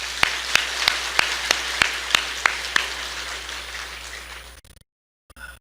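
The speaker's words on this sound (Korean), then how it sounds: "우리 한번 박수합니다." A church congregation at an anniversary worship service breaks into loud, full applause that fills the hall, with a few sharper claps standing out before it tapers off quickly and falls silent.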